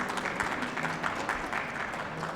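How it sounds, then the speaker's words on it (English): An audience at a conference on African digital infrastructure applauds a Gambian trade minister, a steady dense wash of clapping that holds at an even level throughout, with no talk over it. "A round of applause."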